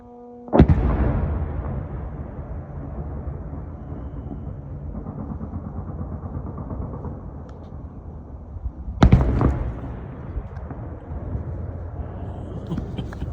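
Ballistic missile explosion near a village in Donbas at night: two heavy booms about eight seconds apart, each a sharp deep blast that rumbles on long after, with low background noise between.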